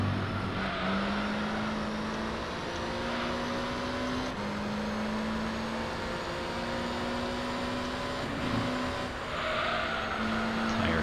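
Race car in Gran Turismo 3: a steady, droning engine tone climbing gradually in pitch through the gears, with a couple of shifts, continuous and close with no voices.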